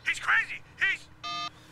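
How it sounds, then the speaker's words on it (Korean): A phone rings in the Sleeping Dogs video game, a short electronic tone burst with steady harmonic bands, following two brief chirpy electronic blips, close and clear. "자, 에이스한테서 또 전화가 왔어요."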